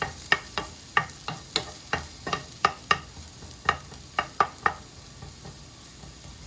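Orzo is stirred around in a hot pan, with a series of sharp scraping clacks from the utensil at an uneven rhythm over a faint, steady sizzle, close and fairly quiet.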